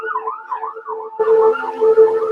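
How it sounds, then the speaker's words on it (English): An ambulance siren wails near a highway, a loud, close, rapidly cycling tone that rises in intensity partway through as it passes, with no talking. "Sorry, somebody got hurt or some shit happened. There'll be another ambulance in 25 minutes."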